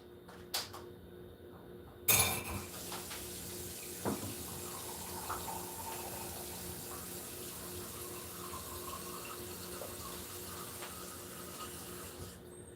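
Water runs steadily from a tap into a kitchen sink, a quiet continuous wash broken by a few sharp knocks and clatters near the start, with no voices.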